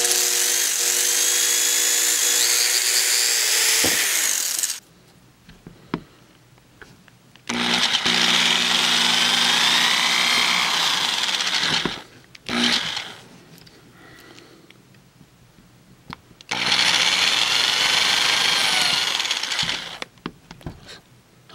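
Three long bursts of a power drill whirring at full speed while drilling during a vintage Tandy Radio Shack toy truck repair, loud and close, separated by quiet pauses with small clicks and handling noises.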